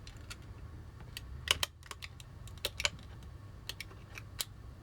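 A blade cuts through material on a cutting mat while a replacement batarang accessory is made, giving a series of sharp, close clicks and scrapes spaced irregularly over a quiet background.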